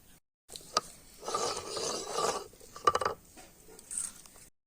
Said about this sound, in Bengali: শিলটা ধুয়ে নি।